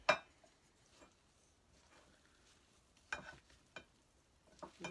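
Ground cumin is stirred into a sweet potato and black bean filling, with faint scraping and a few sharp utensil clicks against the pan over a soft sizzle.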